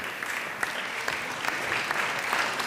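An audience claps steadily at a cycling team presentation, dense applause with a few sharper individual claps standing out, continuous and fairly close.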